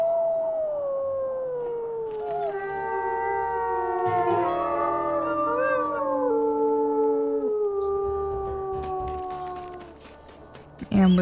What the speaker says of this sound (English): Go ahead and howl.